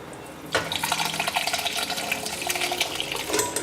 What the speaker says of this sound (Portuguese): O caldo de legumes está aqui. Vou só escorrê-lo rapidamente.